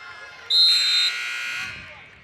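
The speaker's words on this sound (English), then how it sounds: "The buzzer goes off" A buzzer sounds at a women's college basketball game: one loud, harsh, sustained blast of about half a second, then a quieter tone that fades out over crowd noise.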